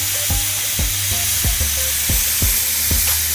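Porterhouse steaks sear on a charcoal grill after being flipped, a loud, steady sizzle running throughout with regular pulsing knocks, no voices.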